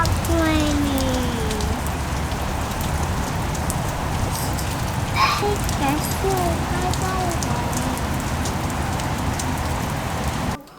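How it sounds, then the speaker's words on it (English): Steady rain pours down on a surface in Buenos Aires, Argentina, in a constant wash of hiss, with faint voices and a few tonal sounds in the background. "When is this gonna stop raining?"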